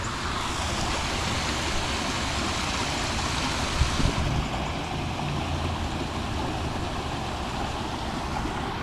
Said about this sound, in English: We got water running. Yeah, we got nice water running